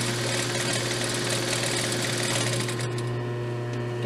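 A sewing machine runs continuously while stitching an elastic waist skirt, a steady close mechanical whir with a constant motor hum and rapid needle chatter throughout.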